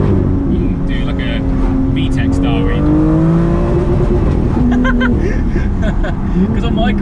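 A modified BMW M2 engine revs hard toward the red line, rising and falling in pitch with a loud, close, raspy tone, while people talk over it.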